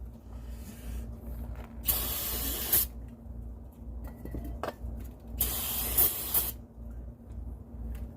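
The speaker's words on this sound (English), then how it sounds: "Take your brake cleaner, spray it down." Two long hissing bursts of aerosol brake cleaner sprayed onto dirty rear brake parts of a C6 Corvette in a garage, each lasting about a second, with faint clinks and handling noises between them and no talking.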